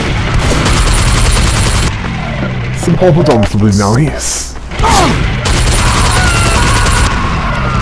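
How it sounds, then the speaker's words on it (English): Continuous loud buzzing minigun fire in Team Fortress 2, a steady sustained roar that breaks off briefly mid-clip and resumes, with someone talking over it. "Are you bringing a knife to a mini gun fight?"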